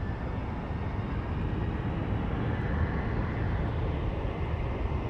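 Southwest airliner taking off at Phoenix Sky Harbor airport, a steady broadband jet roar at a distance that holds evenly throughout with no voices over it.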